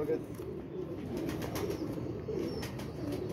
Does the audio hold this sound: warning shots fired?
no